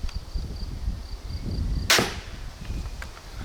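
A powerful repeating wooden pistol crossbow fires once, a single sharp, close snap about midway through, over a steady low background rumble and a faint high whine.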